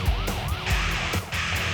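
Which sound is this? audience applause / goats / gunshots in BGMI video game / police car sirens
police car sirens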